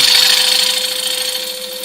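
A lathe gouge cuts waste wood from a screw-mounted blank during woodturning, giving a steady, close hiss and scrape that continues without a break while the lathe hums underneath.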